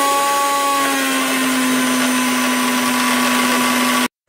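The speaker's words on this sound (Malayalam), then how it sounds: "ഇനി നമുക്കിതിനെ ഒന്ന് അടിച്ചെടുക്കാം." An electric blender whirs steadily as it beats eggs with salt and green chili, a loud, constant motor whine with a sustained pitch that runs for about four seconds and then cuts off abruptly.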